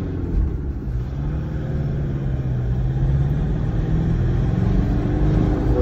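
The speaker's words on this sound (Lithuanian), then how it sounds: "Darau testinį važiavimą." A 3.0 diesel Toyota Land Cruiser with 193,000 km on a test drive gives a steady, loud low engine rumble with road noise, heard from inside the cabin with no talking.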